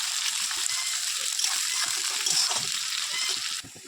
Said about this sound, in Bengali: পেঁয়াজটাকে একদম লাল লাল করে ভেজে নেবো।